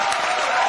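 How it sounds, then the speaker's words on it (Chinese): An audience applauds on a Chinese television job-seeking show, a brief dense burst of clapping from a crowd, steady and fairly loud. "来，掌声欢迎"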